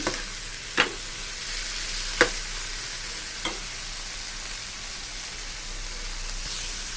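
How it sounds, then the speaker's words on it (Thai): Tomato chili paste for nam prik ong stir-frying in a pan with pork and softened tomato: a steady broadband sizzle runs throughout, punctuated by three sharp scraping clacks of a spatula against the pan, no voices. "พอผัดจนหอมแล้วนะทุกคนหอมได้ที่แล้วนะ"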